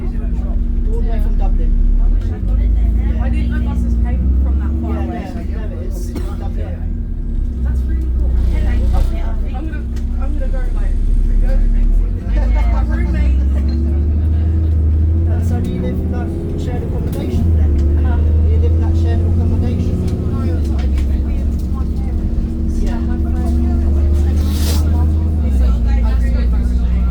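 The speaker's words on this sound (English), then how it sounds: "It's the Enviro 500 tri-axle bus." An ADL Enviro 500 tri-axle bus from Dublin rumbles past with a deep, steady engine drone and some road noise, heard throughout while people talk over it.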